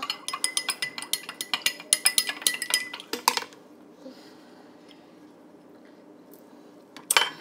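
A metal spoon stirring sugar into a cup of lemonade clinks rapidly and rhythmically against the cup for about three seconds, then goes quiet before one last brief clatter.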